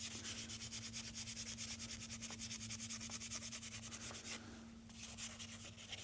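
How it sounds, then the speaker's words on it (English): Dirt and grime are rubbed off the engine parts of a DRZ400SM motorcycle with steady, rhythmic scrubbing strokes that run throughout, close and fairly quiet, under a constant low hum. "just a little light cleaning off some of these areas where there's some dirt and grime"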